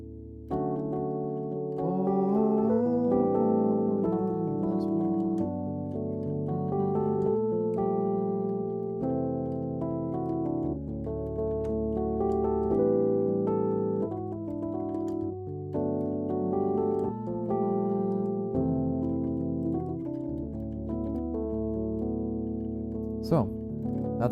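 A jazz piano riff played on a Nord Electro: smooth sustained chords with melodic runs on top, steady and close, a voice speaking quietly over parts of it.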